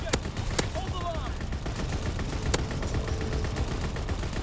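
Gunfire in the World War II shooter Call of Duty WW2, sharp single shots cracking at irregular intervals over a dense background of distant battle noise and faint chatter.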